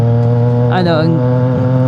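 A CFMoto 675NK motorcycle with a full-system exhaust holds high RPM in a steady, loud, droning engine tone, with a brief rising whine partway through.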